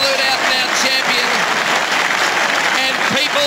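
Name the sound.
football crowd applauding a goal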